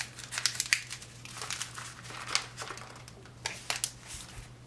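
Onion seedlings pulled from a packed seed-starting cell of starting mix, giving soft crinkling and crackling rustles with a few sharper snaps, close and fairly quiet over a steady low hum.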